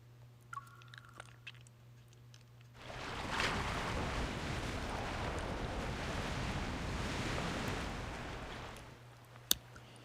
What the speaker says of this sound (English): Accompanied by the sound of the waves